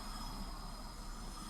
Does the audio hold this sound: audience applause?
no